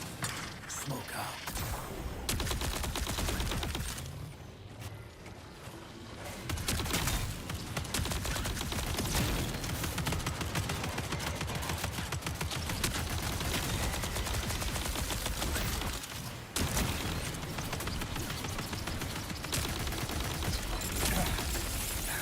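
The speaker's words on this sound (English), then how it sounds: "Someone's shooting at me like for reals." Rapid gunfire from a video game crackles in dense, continuous bursts with mechanical clatter. It is loud and sustained, with a short lull near the middle.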